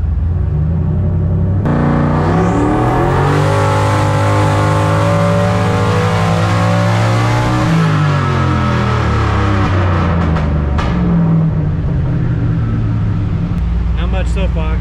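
Turbocharged LS V8 in a Foxbody Mustang running race fuel revs hard and loud, its pitch climbing under boost before dropping back, then settling into a rough, rumbling idle with faint chatter near the end.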